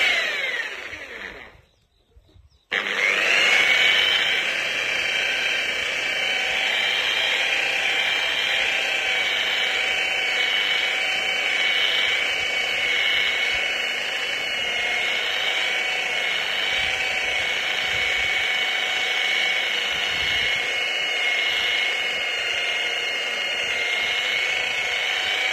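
A polishing machine buffs aurora paint on a vehicle at about 2000 RPM, giving a steady, loud, close whine. It starts after a brief dropout and holds an even pitch with little variation.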